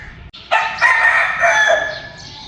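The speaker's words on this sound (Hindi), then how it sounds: "सुबह सवेरे कोई बंदा चारपाइयों पे बैठे ना बैठे, मुर्गा और मुर्गी ने दोनों चारपाइयाँ संभाल ली हैं।" Rooster crowing loud and close in the morning, with a hen nearby, both perched on charpoys in a home courtyard; a single long crow rises after a short pause and carries on for about two seconds.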